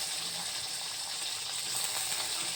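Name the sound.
onions frying with ginger and garlic in pan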